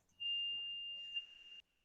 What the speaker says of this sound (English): I get the buzz sound, beep sound, I got it.